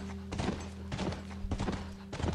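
Horse hooves galloping in The Last of Us, rhythmic bursts of thudding clip-clop repeating about every half second, close and moderately loud with no talk.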